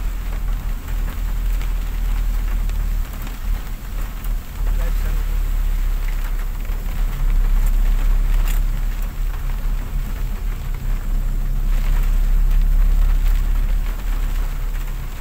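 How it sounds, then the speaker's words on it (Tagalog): Heavy rain from a typhoon pours steadily near the Angat area, a dense continuous hiss with low rumbling underneath, while faint voices talk intermittently in the background. "Malakas ang ulan dito sa angkat."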